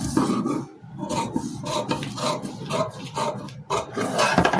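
Scissors cut a straight line through fabric for the back piece of a princess-cut blouse, making close, rasping snips in an uneven run with brief pauses.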